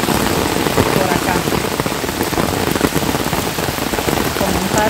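Heavy rain pours over cornfields, a dense, constant hiss of drops close by with no talk over it.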